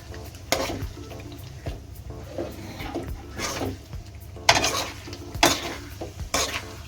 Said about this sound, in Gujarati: હવે આપણે એને મિક્સ કરી દઈશું